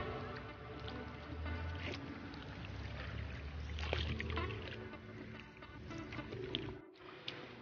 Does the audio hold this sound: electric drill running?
no